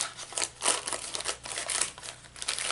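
Crinkly rustling and snipping while Temu packaging material is cut with scissors to trim off a rough part, irregular bursts of crumpling close to the listener, no talk.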